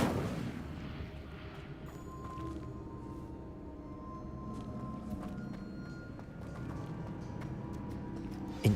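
Incendio fire spell cast in the video game Hogwarts Legacy: a steady, rumbling burst of flame over a low, dense background, with no talking.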